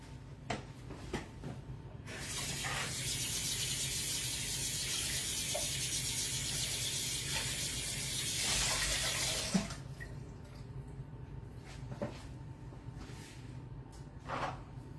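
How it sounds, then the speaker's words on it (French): A Crispy baking mat rinsed under very hot tap water in a kitchen sink: a steady, loud rush of running water for several seconds, with a few clicks and knocks before and after. "On va venir passer la toile Crispy sous l'eau très chaude."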